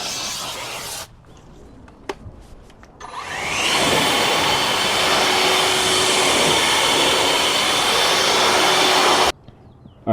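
Blower drying a cleaned wheel and tire, a loud continuous rushing roar that starts abruptly after some handling clatter and cuts off near the end.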